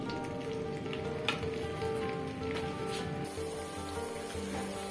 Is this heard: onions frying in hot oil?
yes